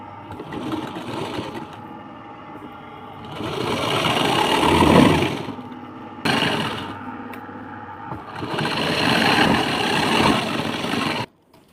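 Sewing machine stitching a saree border onto a blouse, running in long loud bursts separated by short pauses, close by and without talk.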